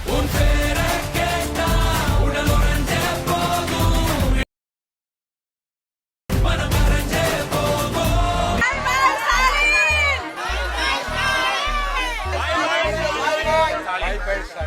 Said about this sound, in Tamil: மக்களோட சத்தம் கேக்குதா?